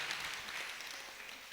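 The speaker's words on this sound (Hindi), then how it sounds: "ताली तो बजा दो।" An audience claps together, a dense, even patter that holds steady and stays moderately loud for a short moment, with no voices over it.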